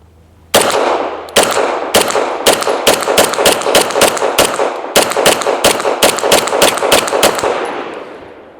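Steel-frame Tisas 1911 Duty B9R 5-inch pistol fired in a loud, close, fairly even string of roughly twenty sharp shots. A brief pause comes after the first shot, and the reports ring out with no voices.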